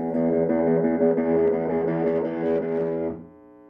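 A buzzy, distorted electric guitar chord rings out through an amp, sustained for a few seconds before being cut off.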